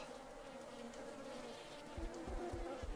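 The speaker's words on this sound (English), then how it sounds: "Oh, bees," A steady, droning insect buzz of several bees in the video game Sneaky Sasquatch, continuous throughout, with a few low thumping sounds near the end.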